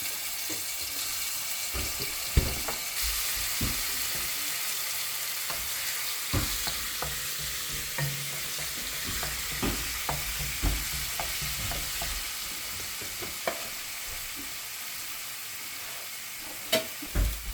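Surati-style vegetable ghotalo fries in oil with coriander, cumin and a ginger-garlic-chilli paste. A steady close sizzle carries intermittent spoon scrapes and taps as the mixture is stirred.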